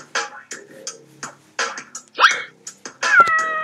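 A kitten meows in a video game, several short cartoonish cries spaced through the moment, with a longer rising tonal call near the end, loud and close with no talking.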